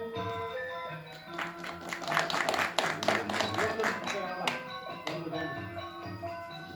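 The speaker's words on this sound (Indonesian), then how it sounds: "Oke, silakan tepuk tangan." A studio audience at a Balinese television broadcast applauds in a dense burst of claps that peaks and tapers off, mixed with music playing underneath.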